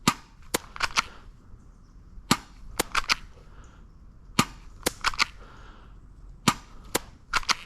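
A spring airsoft pistol fires a series of sharp, dry snapping shots, single and in quick pairs at uneven intervals, loud and close with no talk.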